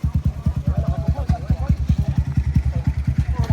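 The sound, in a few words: motorcycle engine idling at race start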